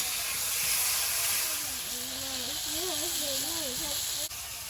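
Hot oil hisses steadily in a dry kadai holding okra and turmeric, a broad, continuous sizzle that carries under a person talking.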